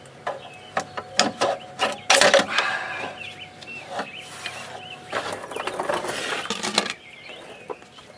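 A clutch delay valve fitting is worked loose on a BMW E46, with sharp ratcheting clicks at first and then a longer stretch of scraping, rattling mechanical noise, close up and with no voices.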